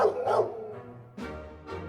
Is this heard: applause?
no